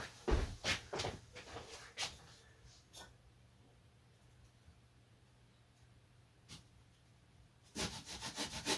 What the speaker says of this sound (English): As you can see, I've cut some of that away now